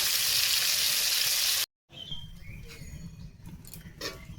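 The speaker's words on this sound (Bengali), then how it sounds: "আলুটা ভাজা হচ্ছে দেখো লাল লাল করে ভাজা করে নিচ্ছি" Potatoes frying in hot oil in a home kitchen, a loud steady sizzle that cuts off abruptly, then returns as softer crackling and spitting with a few clinks.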